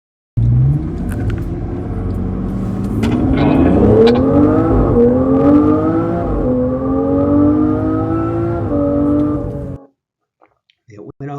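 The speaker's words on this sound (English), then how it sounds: "This is what a twin turbo V12 sounds like." A twin-turbo V12 car accelerates hard from inside the cabin, its loud engine note rising steadily through the revs with a brief dip at a gear change, then cutting off abruptly into near silence.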